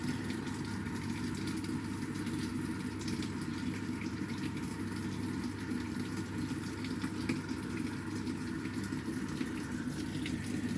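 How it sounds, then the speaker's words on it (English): Water rushes steadily into the drum of a Samsung top-load washing machine, a constant, fairly loud hiss and gush with a low hum underneath, continuous throughout. "Now water inlet go in the drum."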